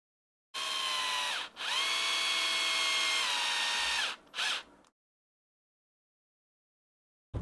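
A power screwdriver drives screws into a Gmade GOM GR01 Plus RC crawler kit, whirring loudly and up close for about four seconds with pitch shifting as it slows under load, then a short final burst before silence.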